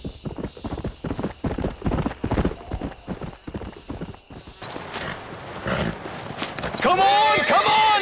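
Horse hooves clip-clop in Red Dead Redemption, a rapid, close run of hoofbeats under talking voices, then a horse whinnies loudly near the end.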